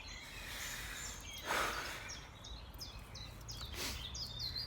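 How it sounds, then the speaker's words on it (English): Birds chirp and sing outdoors in a faint, quiet scene, with repeated short high calls scattered through the clip and a brief louder rustle or burst near the middle. "You've been hearing the birds I hear? It's so beautiful."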